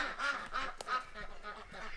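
Nasal quacks come from farm ducks in short bursts close by, with a busy chorus of overlapping calls and a sharp click partway through.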